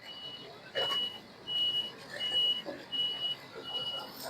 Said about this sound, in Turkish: Evet şu anda kamyon yanaşıyor. Asfalt makinesine.